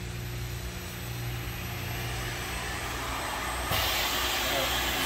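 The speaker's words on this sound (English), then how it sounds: "It will start up the mill." A post lift drum-to-drum milling system in sanitary stainless steel starts up its mill, a steady loud broadband whirring hiss and hum that holds throughout and grows slightly louder and brighter partway through.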